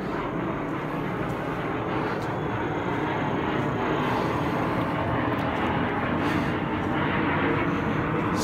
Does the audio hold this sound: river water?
no